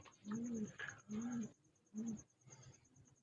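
Sialkoti Jonsiry pigeons coo close by in three or four soft, low, rounded calls with brief pauses between them, alone against a faint steady hiss.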